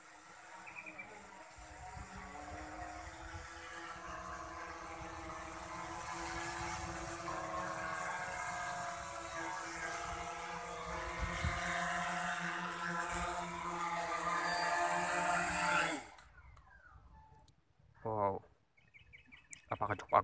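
Bayangtoys X21 drone descending and landing on its own under return-to-home: a steady, whining propeller drone that holds for about sixteen seconds and then cuts off abruptly, followed by a few faint chirps and soft handling sounds.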